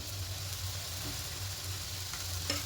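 A mustard curry mixture with salt and turmeric simmers and is stirred in a pan at close range, a low steady bubbling hum broken by a couple of light utensil scrapes; no talking.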